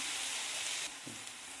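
Onions sautéing in salted oil in a pan over a full gas flame, a steady close sizzle and crackle with a brief stir partway through, no voices.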